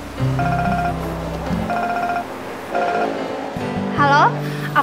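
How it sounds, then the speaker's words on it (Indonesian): A mobile phone rings with a repeating electronic ringtone, short bursts of tones separated by pauses over a background drone, ending in a warbling sweep as a voice speaks near the end. "HP kamu bunyi."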